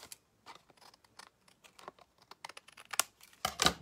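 Sticky scissors trim a paper cone in a series of small dry snips and crisp paper crinkles, close and irregular, ending with a louder rustle of handled paper.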